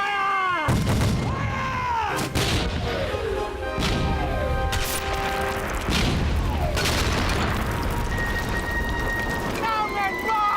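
Marines fire a musket volley aboard ship in a period naval drama, a loud crashing burst of shots followed by further booming impacts, ringing tones and shouting voices.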